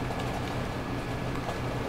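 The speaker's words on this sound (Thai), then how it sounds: "ตุกตักตุกตั้งนี่คือเสียงฝนนะไม่ต้องตกใจ" Steady dense patter of rain in the video game Devil May Cry 5, a constant soft hiss with scattered tiny drips, continuous and even throughout with no voices.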